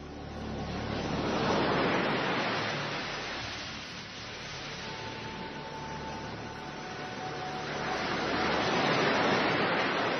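A recording of ocean waves plays over a radio broadcast, with surf swelling and receding in two broad surges and steady hissing wash between them.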